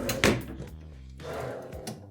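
White drawers in a Bay Lake Tower deluxe studio dresser slide and knock shut, giving two close wooden thumps with a brief sliding rumble between them.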